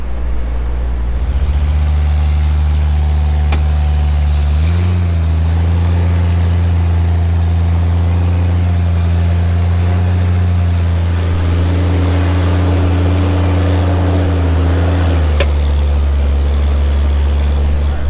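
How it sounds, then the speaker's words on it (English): A Double XJ off-road vehicle's engine rumbles steadily on its first test drive over rough terrain, a loud, close, low drone whose pitch dips and rises a few times as the throttle shifts. "The double XJ is Going on its test drive."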